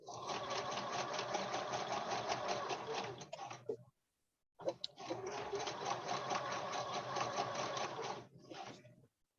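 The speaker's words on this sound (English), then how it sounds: "if my sewing machine gets too loud, let me know" A sewing machine runs in rapid, even stitching bursts, two long runs separated by a brief pause, moderately close and steady, with faint talk barely present.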